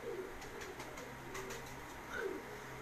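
Soft pigeon coos come through faint, steady background noise from a rooftop in Gujranwala, a few low burbling calls spread across the moment with no voices.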